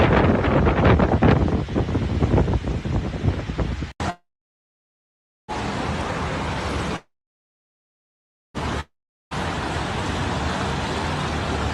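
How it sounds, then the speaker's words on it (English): Strong wind gusts roar through city streets during a storm with flooding, a loud broadband rush buffeting the microphone in bursts broken by abrupt silent gaps. "Strong gusts of wind were heard in the streets of the city."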